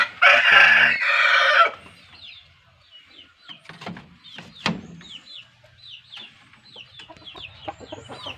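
A rooster crows loudly up close, then chickens cluck and chatter in short, scattered calls, with occasional sharp knocks nearby.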